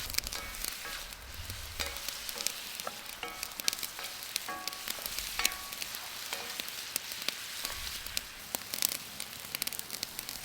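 Mushrooms for a short rib gravy sizzling in a skillet with soy sauce and Worcestershire, a quiet steady crackle with scattered pops and spatter ticks, faint low thumps, no voices.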